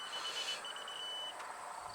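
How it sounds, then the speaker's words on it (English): A grade-level laser receiver emits a steady electronic beep, a thin high tone held for over a second with a short break, heard outdoors around a garage during box blade and loader grading work. "So you heard the beep when it goes beep, beep, beep, beep, beep, beep, and it goes beep."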